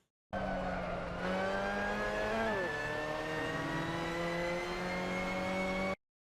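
A Mazda MX-5 Cup car in Assetto Corsa at Portimao accelerates out of a corner, its engine whine climbing steadily through a brief shift dip, then staying loud and continuous on the straight with no talk.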